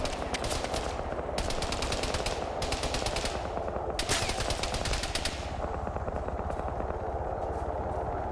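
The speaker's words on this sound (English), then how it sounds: "You can hear the ZU-23 firing in the distance." A ZU-23 anti-aircraft autocannon fires in a military shooter game, in long rapid bursts of repeated shots that run almost without pause and sound distant.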